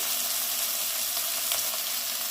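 Spice masala of ginger-cumin paste, salt, turmeric, coriander and Kashmiri chilli powder frying in a pan for a vegetarian broccoli dish, giving a steady, bright, close sizzle throughout.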